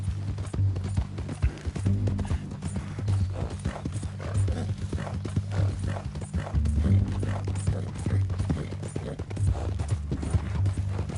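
Horse hooves clip-clop steadily in a video game, a continuous rhythmic trot under a low ambient hum, with no voices.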